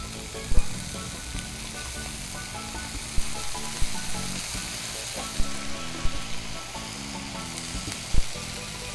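Vinegar hits kamaru (crickets) frying in a pan, and a loud, continuous crackling sizzle runs throughout, punctuated by scattered sharp pops and spatters.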